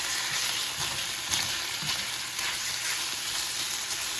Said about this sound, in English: I have everything on high heat because I don't know what's wrong with this pan.